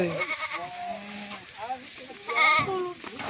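Goats, including mothers with young kids, bleat loudly and repeatedly while being loaded onto cargo transport at a goat farm in Faisalabad, with people talking throughout.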